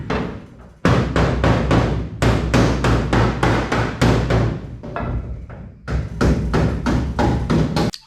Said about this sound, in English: Gonna hammer on this quarter panel a little.